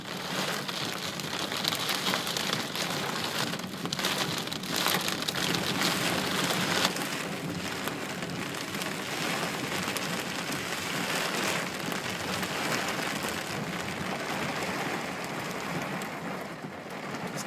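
Heavy rain pours during the Boulder, Colorado flood of 2013, a dense, steady hiss of drops drumming on surfaces that continues without a break, close and enveloping.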